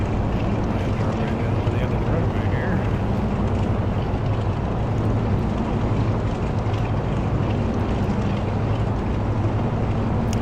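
A VSkyLabs DC-3 flies in X-Plane 11 around San Francisco, its piston engines giving a loud, steady, close drone that holds without a break.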